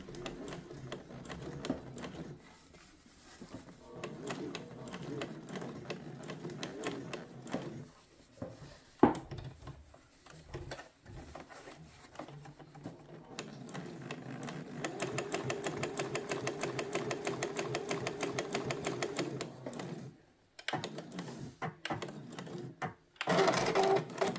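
Sewing machine topstitching trousers, running in close, steady whirring bursts with pauses and handling clicks in between, one long even run near the end.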